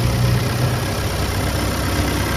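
The engine of a 2022 Volkswagen Tiguan idles with a steady, even hum close by, with no talking over it.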